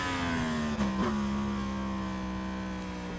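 An MT naked motorcycle engine in a Milestone racing video game, holding a steady high rev drone with rising harmonic lines and a brief blip around the first second, loud and continuous with no speech.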